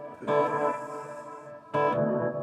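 A guitar runs through an effects pedal that samples the playing, pitch-shifts it and adds reverb, giving two sustained, shimmering chords with a rich, effected tone. The second one enters after a short dip.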